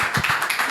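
A church congregation clapping in a quick, uneven rhythm, several sharp claps close together at moderate loudness with no voices over them.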